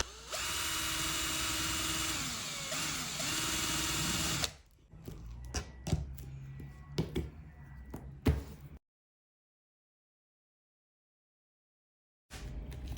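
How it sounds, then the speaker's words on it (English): A power drill with a wood bit whirs steadily for a few seconds as it bores a hole for leather loop cabinet pulls. Scattered knocks and handling clatter follow, then silence before the motor starts again. "Let's go drill some holes in these babies."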